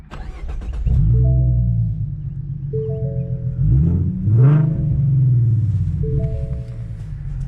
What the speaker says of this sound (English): So this is what she sounds like on startup.